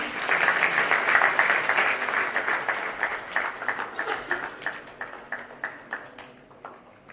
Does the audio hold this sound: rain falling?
no